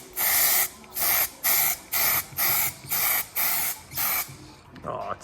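Aerosol spray bursts of sparkly clear coat applied to a car brake caliper, about eight evenly spaced short hissing blasts, close and loud, ending with a brief quieter sound.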